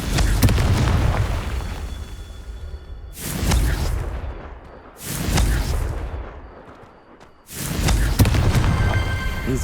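Three heavy Confringo spell explosions boom in Hogwarts Legacy, each a loud, deep burst with a rumbling tail that fades before the next blast lands, spaced about two seconds apart.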